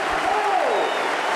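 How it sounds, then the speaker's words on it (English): Stadium crowd at a 2013 Hull KR vs Salford rugby league match applauding as Hull KR take the field, a steady, dense wash of clapping and crowd noise from all around the ground. "Applause from all corners of the ground as the Robins take to the field."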